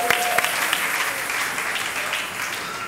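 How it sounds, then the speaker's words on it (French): Church congregation applauding during a French-language service, a dense steady clatter of many hands clapping together for the full three seconds, with no speech over it. "Acclamons pour la parole de Dieu."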